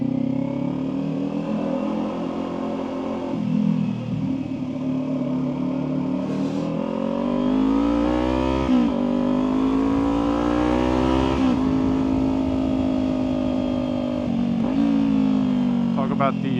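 A Kawasaki Ninja 400 cruises along a cluttered, dirty road, its engine tone rising and falling through gear changes with a steady rider's voice talking over it throughout.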